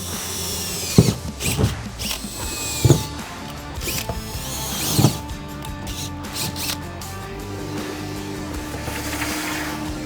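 A power drill drives screws into a truck bed rail on a 2019-2023 Ford Ranger, with several short whirring bursts close by between quieter pauses, then a steadier mechanical hum.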